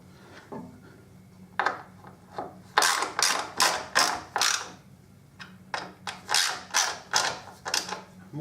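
Fasteners being nipped up by hand during maintenance on a Suzuki DL1000 V-Strom motorcycle, a series of close, sharp ratcheting clicks in quick bursts, starting sparse and then coming in steady repeated strokes with brief pauses between them.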